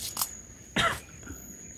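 A sickly, weak man gives a single short cough, fairly close, followed by quieter throat noise, with a faint steady hiss in the background and no talking.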